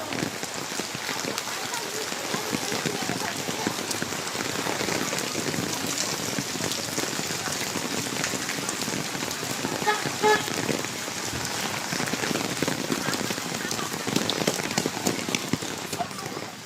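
Heavy rain pours steadily outside a school as parents walk to collect children at dismissal, a dense continuous hiss with scattered drips and splashes, with faint talk and a distant vehicle horn in the background.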